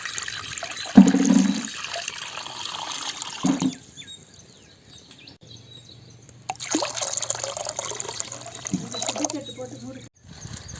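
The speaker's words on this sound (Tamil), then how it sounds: "அதுக்கு தேவையான தண்ணி இப்போ சேர்த்துக்கலாம்." Water pours into a pot for boiling noodles in a village-style squid noodle dish, first in a short splashing burst, then after a pause as a longer steady stream, with a voice heard faintly in places.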